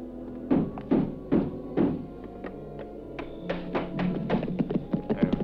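Heavy repeated thuds as a door is broken down in a Western film, several spaced blows followed by a quicker flurry of knocking and banging, fairly close.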